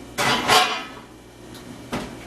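Metal roasting pan holding a roast chicken slid into a 350-degree oven, with two clattering scrapes close together and a sharp clunk of the oven door shortly after, no talking.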